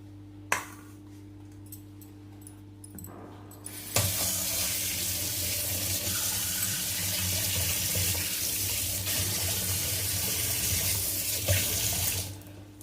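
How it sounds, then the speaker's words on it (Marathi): Tomatoes are rinsed under a running kitchen tap, a steady broadband rush of water starting abruptly after a few seconds of quiet with a faint hum, continuing close and even before cutting off near the end. "टोमॅटो स्वच्छ धुवून घेणार आहे."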